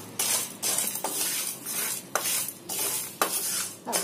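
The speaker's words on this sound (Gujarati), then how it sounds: "આ બધા મસાલા આપણે એકદમ ધીમા તાપે શેકવાનું છે." Cumin seeds and small coconut pieces dry roasting in a pan over low heat, stirred with a utensil that scrapes and taps the pan in regular strokes over a soft, steady sizzle.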